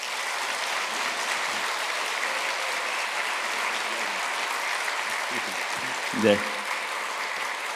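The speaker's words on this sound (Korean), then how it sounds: "큰 박수로 환영해 주시면 감사하겠습니다" An audience welcomes a lecturer to a lecture on the Korean War and American aid with a long, even burst of applause, filling the room steadily before a brief spoken word near the end.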